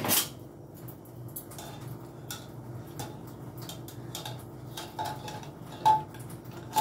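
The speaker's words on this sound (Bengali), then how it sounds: "এবার আমি প্রেসার কুকারটা খুলে নিচ্ছি।" A pressure cooker being opened and pots handled in a kitchen, a few distinct metallic clanks and clicks over a quiet background, close and fairly soft, with no speech.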